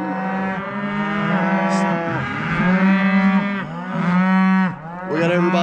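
Cattle lowing nearby in a steady overlapping chorus of long moos, several animals calling one after another outdoors, with no talk.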